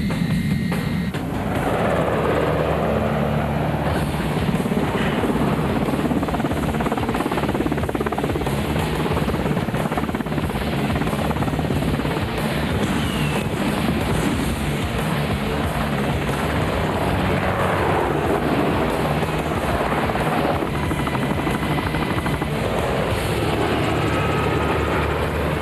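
A Pave Hawk military helicopter flying during Red Flag exercises at Nellis, a continuous loud rotor thrum and engine whine that slowly swells and fades as it passes, with no voices.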